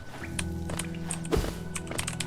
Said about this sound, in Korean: 키보드 딸깍딸깍 소리 거슬리시면 꼭 말씀해주세요